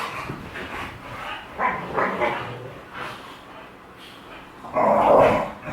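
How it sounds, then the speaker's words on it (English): Dogs barking and yipping indoors in the morning, a string of loud, close barks and whimpers in uneven bursts, the loudest burst near the end. "The dogs go insane in the morning."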